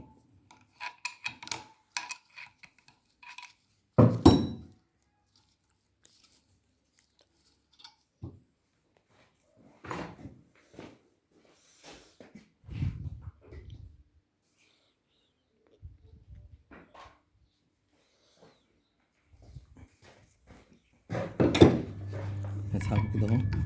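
An old mechanical seal is worked out of a Calpeda 1 hp water pump motor. Scattered metallic scrapes, clinks and light rubbing come in short bursts between quiet gaps, with a louder knock early on and a denser rasping stretch at the end.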